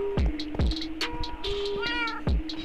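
Repeated, insistent meows from a Minecraft cat, about five or six sharp cries in quick succession, loud and close with soft in-game ambience underneath.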